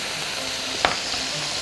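Chicken and greens frying in a pan as they are stirred, a steady broadband sizzle with one brief louder scrape or clatter partway through, no voices.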